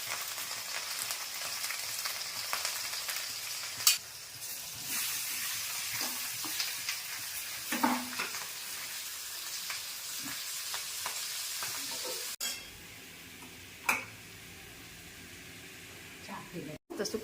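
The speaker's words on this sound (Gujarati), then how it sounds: "સૂકી ભાજીનો વઘાર થાય છે." Dry vegetable bhaji tempered in a hot pan: steady sizzling and frying hiss with stirring scrapes and a few sharp clinks, while people talk nearby.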